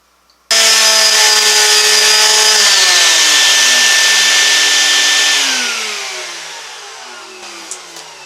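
Power sander grinding across a Lane coffee table top with a quarter sheet of sandpaper, a loud steady whine starting abruptly and holding, then its pitch sliding down and fading as the motor winds down alone.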